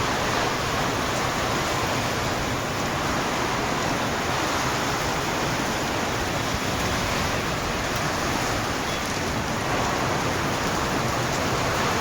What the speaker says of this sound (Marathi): मित्रांनो पाऊस बघू शकतो. मी आडवा करतो मोबाईल. तुफान असा पाऊस चालू आहे.